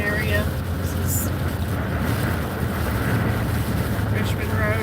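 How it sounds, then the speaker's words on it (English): Strong wind gusts during a storm chase near Lexington roar steadily against the microphone, a loud, constant rush with a low rumble underneath, and a person talks over it at times. "So we are definitely having like some major wind gusts"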